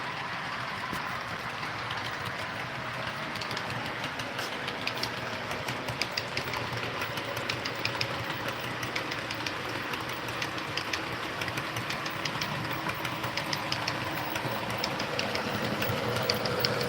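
An Athearn GEVO ES44AC model locomotive idles with a steady, continuous mechanical hum and faint rattling texture that holds level throughout, close and fairly loud, with no voices.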